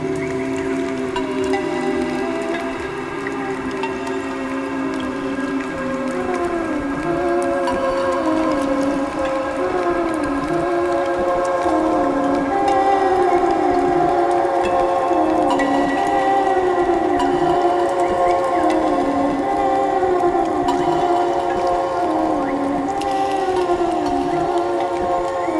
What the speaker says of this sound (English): pull out one of those blank tape loops and record some more psychangelic sounds